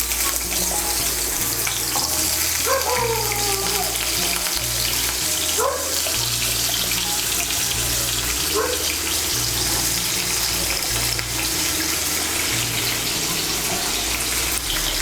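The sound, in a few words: new potatoes frying in oil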